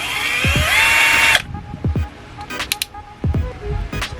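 An INGCO 12V lithium-ion cordless drill spins up briefly with a high whine, then stops, followed by several clicks and handling knocks, close by.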